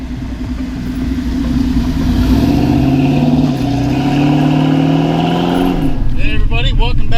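A 1932 Ford restomod's engine revs loud and close, its pitch climbing in long sweeping pulls before it cuts off and a voice starts speaking.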